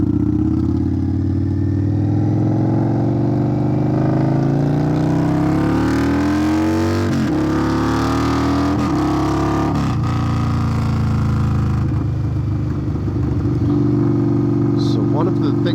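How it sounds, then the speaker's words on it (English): A 2021 Indian Scout motorcycle with a Hacker Mayhem exhaust rumbles loud and close, its deep engine note rising and falling through throttle changes and gear shifts, with a person talking over it. "I am very, very pleased with the sound of this exhaust"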